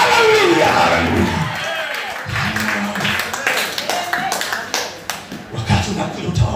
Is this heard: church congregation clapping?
yes